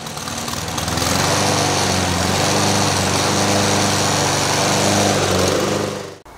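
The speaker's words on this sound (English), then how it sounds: "as soon as it starts running, you need to turn down the choke" A small petrol Honda IZY lawn mower engine runs steadily and loudly up close, a constant buzzing drone that cuts off abruptly at the end.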